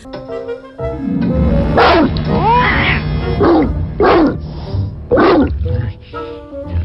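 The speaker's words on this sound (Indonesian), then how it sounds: "tiba-tiba ikan itu menggonggong seperti suara anjing" A dog barks four or five times, loud and close, with short pauses between the sharp yaps.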